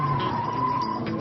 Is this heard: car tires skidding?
yes